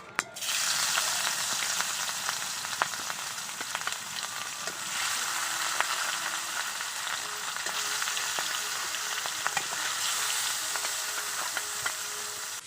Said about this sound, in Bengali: এবার মাছগুলো ভেজে নিচ্ছি